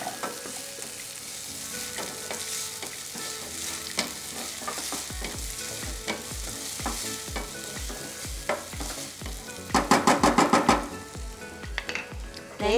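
Bird's eye chilies stir-fried with garlic in a hot pan: steady rhythmic spatula scraping over a constant loud sizzle, with a quick burst of clattering strokes near the end and no talking.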